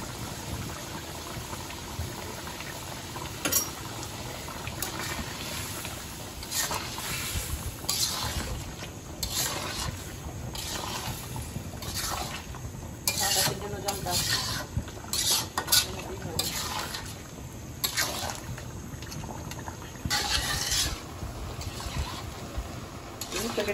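Curry simmering in a pot with cumin powder and garam masala just added, a steady bubbling hiss broken by repeated scraping stirs close by.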